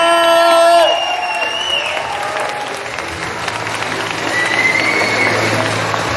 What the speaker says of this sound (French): maintenant je veux des tonnerres d'applaudissements pour Tom et Kristin Kreuk, s'il vous plaît.